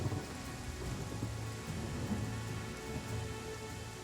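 Heavy rain pours steadily and loudly in Pathfinder Kingmaker, a dense unbroken wash with low rumbling underneath, constant from start to end with no voices.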